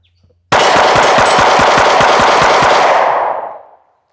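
A Sig Sauer P365 pistol firing Sig V-Crown 124 grain rounds in one rapid, very loud burst of about eleven evenly spaced shots. Echoing reverberation fades out after the last shot.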